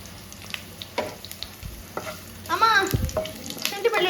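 Garlic paste fries with mustard seeds in a pan for a chicken liver dish, giving a steady close sizzle and crackle with scattered stirring scrapes and a louder burst of frying near the end.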